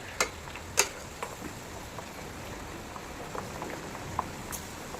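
Garlic in warm homemade hair oil sends up small, sparse bubbles, faint irregular pops and ticks over a soft simmering hiss, quiet and close.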